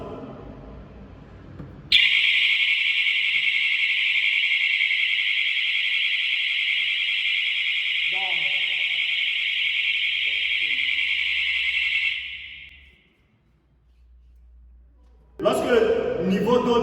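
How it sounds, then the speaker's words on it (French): A security control panel's flood sensor alarm sounds after water is poured on the floor: a loud, steady high-pitched electronic tone lasting about ten seconds, with a voice briefly talking underneath, before it cuts off. "Le capteur d'inondation est capable de vous lancer une alarme pour signaler qu'il y a un problème."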